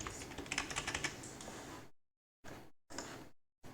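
Computer keyboard keys pressed in a quick run of soft clicks, then a pause and a few separate short bursts of tapping, close and fairly quiet.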